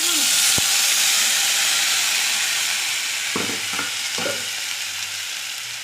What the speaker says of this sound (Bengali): এবার আমি মশলাটা দেবো, যে টমেটো, লঙ্কা, আদা আর গোলমরিচ বেটে রেখেছিলাম।